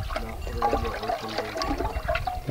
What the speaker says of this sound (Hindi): ऐसे अभी गोबर घुल गया